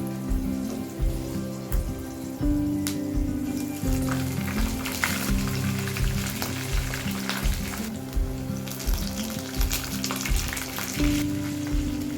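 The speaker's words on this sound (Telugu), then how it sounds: "ఒక ప్యాన్లో పల్లీలు శనగపప్పు మినపప్పు ఎండుమిర్చి పచ్చిమిర్చి కరివేపాకు పోపేసి పెట్టాలి" Steady crackling sizzle of peanuts, chana dal, urad dal, dried and green chillies and curry leaves tempering in hot oil in a pan, with a low hum underneath and occasional stirring clinks, no talking.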